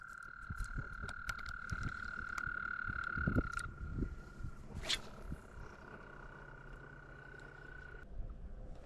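Insects buzz loudly beside a golf course pond, a sustained high drone with scattered chirps and clicks, while faint wind and occasional low bumps sit underneath.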